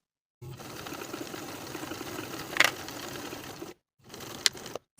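A sewing machine runs a steady burst of stitching along the slanted pocket seam of women's elastic-waist pants, with a sharp click midway, a brief pause, then a shorter second run, close and without speech.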